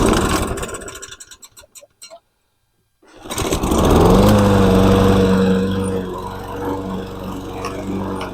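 A self-propelled push lawn mower sputters through a pull-start, cuts out, then catches and roars into a steady, loud, close engine run.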